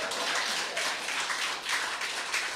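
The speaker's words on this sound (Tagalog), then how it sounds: "yan lang ba ang palakpak ng excited?" A congregation claps during a Friday sermon, a dense, steady wash of applause from many hands with slight swells, sustained throughout and fairly close.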